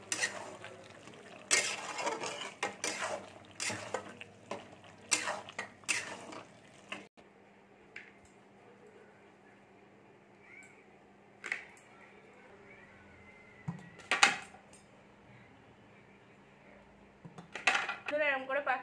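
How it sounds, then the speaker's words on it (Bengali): Boiled potato and chickpeas for a vegetarian chana masala are stirred in a pot with a metal utensil, giving repeated clattering scrapes in bursts with quieter gaps between. "আলুটা ছোলাটা সিদ্ধ করে রেখেছিলাম, এটা দিয়ে দেবো। দিয়ে নেড়ে নিচ্ছি একটু ভালো করে।"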